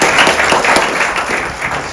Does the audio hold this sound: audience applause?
yes